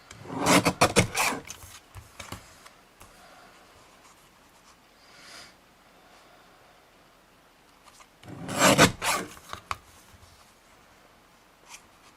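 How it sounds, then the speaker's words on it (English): A paper trimmer blade slices through card stock for a kite-shaped card, two brief close scraping cuts several seconds apart with quiet pauses between. "we're going to get our trimmer again, and we're going to connect the dots here"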